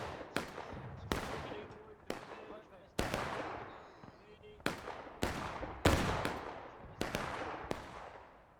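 Artillery and musket fire in the Civil War game War of Rights, a roughly 300-player battle at Bolivar Heights Camp: sharp, loud blasts every second or so, each rolling off into a long echoing tail.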